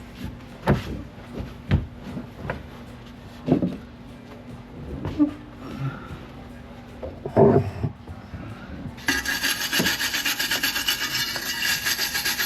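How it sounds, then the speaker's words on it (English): Stiff brushing and scrubbing on a part from an old 1987 Jeep Wrangler during restoration, irregular rasping strokes up close, followed by a steady, dense hiss of continuous brushing. "So I'm going to start by just giving this a really good brush and finding out what falls off."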